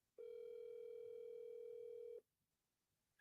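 Telephone ringback tone heard during an outgoing call: a single steady, loud electronic tone lasting about two seconds, then silence, with a faint start of another sound at the very end. No one talks.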